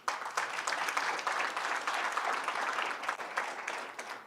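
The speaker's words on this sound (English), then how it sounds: "we deserve a round of applause" Audience applause at the launch of a 2023 census main report, a lively burst of many hands clapping steadily in a hall, tapering slightly toward the end.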